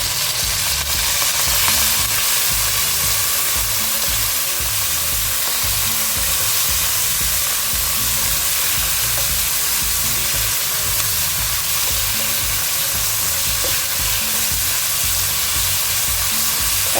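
Chicken pieces fry with onion and garlic in a pan for pasta alfredo, giving a loud, steady, close sizzle and hiss that runs unbroken throughout, with occasional stirring scrapes and no voices.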